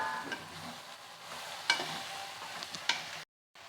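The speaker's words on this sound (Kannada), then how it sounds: "ಮತ್ತು ಒಂದು 2 ನಿಮಿಷ ಇದರಲ್ಲೇ ಫ್ರೈ ಮಾಡ್ಕೊಳ್ರಿ." Cluster beans for palya stir-fry in a pan, making a quiet sizzle with a few sharp spatula scrapes and clinks and no talk, then falling briefly silent near the end.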